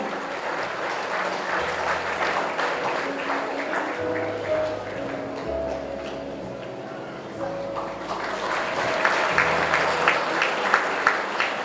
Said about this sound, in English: Let's give him a big round of applause, dear parents.